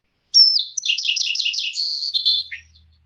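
A single distant bird call with reverberation, a bright, rapid chirping trill lasting about two seconds that ends in a short downward note and then fades out in the reverb.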